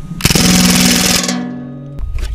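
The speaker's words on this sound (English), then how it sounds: "HATSAN Blitz, full auto mag dump," A Hatsan Blitz full-auto airgun empties its magazine of H&N Hornet pellets in one loud, rapid burst of about a second of fast shots, followed by a lingering mechanical hum and a couple of faint clicks.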